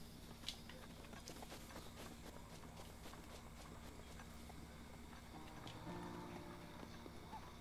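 A horse's hooves clip-clop faintly and steadily in The Legend of Zelda: Breath of the Wild, with soft regular hoof clicks over a quiet game background.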